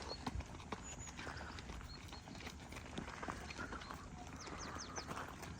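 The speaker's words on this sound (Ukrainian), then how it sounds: "Це його кобилки." Horse hooves clip-clop at a stable in the Carpathian foothills, a busy, uneven patter of close and distant steps with occasional faint whinnying.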